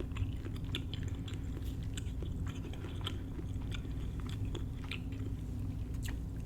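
Someone chews a bite of shrimp salad made with Old Bay and lemon, giving soft, close crunches and wet bites in an irregular rhythm over a low, quiet background, without talk.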